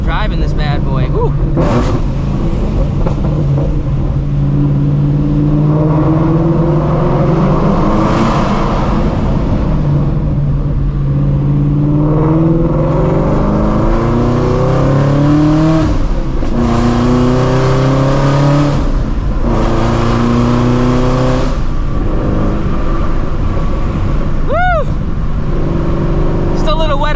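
A Ford Mustang on the road climbs through gears under hard acceleration, its engine note rising in repeated sweeping pulls with brief shift breaks, loud and close inside the cabin, with voices talking over it.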